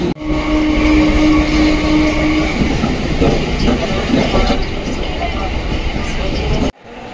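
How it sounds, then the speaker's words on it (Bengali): A local train pulls into a station on Indian Railways, its loud rumbling clatter and steady whine continuing for several seconds before cutting off abruptly near the end. "5টা ট্রেন 5টা 20 ঢুকলো।"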